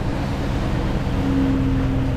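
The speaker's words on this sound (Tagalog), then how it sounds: "bagal ang takbo hirap na ang makina" A straining boat engine drones in a deep, steady rumble with a faint tonal hum, loud and continuous throughout, as the boat moves slowly against strong wind at sea.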